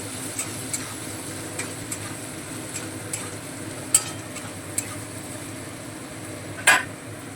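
Potatoes being stirred with salt and turmeric in a pan, soft continuous scraping and faint sizzle with a few sharp clicks of the spoon against the pan, close and without talk.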